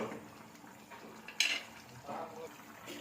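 Vegetables with chili powder and salt being stirred in a pot for bisibele bath, with a spoon scraping and a sharp clink of metal against the pot midway, fairly quiet and close.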